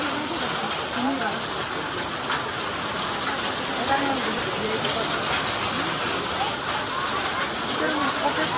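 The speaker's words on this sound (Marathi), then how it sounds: "पाऊस पण पडायला लागलाय" Summer rain falls steadily outside a temple. The hiss is broad and continuous and stays even throughout, with voices talking faintly underneath.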